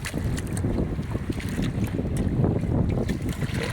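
Strong amihan northeast monsoon wind blows at sea aboard a small fishing boat, buffeting the microphone in a constant dense roar with rushing water underneath, and no voices.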